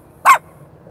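A single short, sharp dog bark rings out once against near silence.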